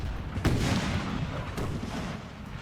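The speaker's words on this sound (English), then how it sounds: "Turn the guns and canister the enemy." Cannon fire in the Napoleonic battle game Napoleon: Total War: two sharp booming shots about a second apart over a rumbling battlefield din, moderately loud, no speech.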